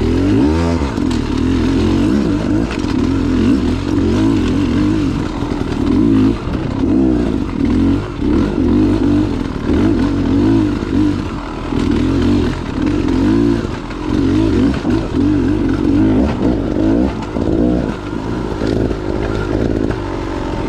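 A motocross bike rides a track, its engine droning loudly and continuously with repeated revving surges and occasional clatter throughout.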